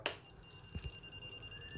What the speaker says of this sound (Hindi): यहाँ पर बजर का साउंड भी आ रहा है और लाइट एलईडी ब्लैंकिंग हो रही है